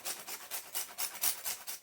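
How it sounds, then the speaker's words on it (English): A block of Jamaican chocolate is grated for tea, about eight rhythmic rasping strokes in quick regular succession, close and hissy, with no talking. "So I'm grating it right now to make some tea."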